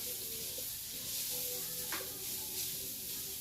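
Sweet potatoes sizzle faintly in a hot pan while being reheated, a soft steady crackle with an occasional stir or scrape.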